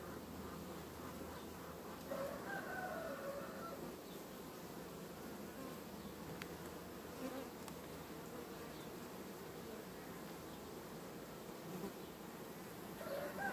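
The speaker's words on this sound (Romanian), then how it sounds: "Nu credeam că are chiar așa multă albină." A honeybee swarm that has returned to its hive, its steady dense buzzing droning continuously and loudly from close by without pause.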